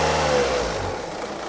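A 12V car engine runs steadily at idle during an alternator charging check with a battery tester, a continuous mid-pitched hum that fades slightly toward the end, with no talking.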